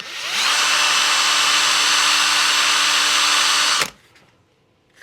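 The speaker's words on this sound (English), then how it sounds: "putting them in a drill here and spinning the heads with a little bit of 240" Drill spinning screw heads against 240 grit sandpaper while building a vintage PR7 pan car, a loud steady high whine that starts quickly, holds for about three seconds, then cuts off abruptly into quiet.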